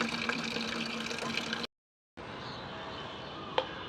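Water runs steadily from a rooftop tap to water bean plants, a continuous faint rush that breaks off briefly mid-stretch and then resumes.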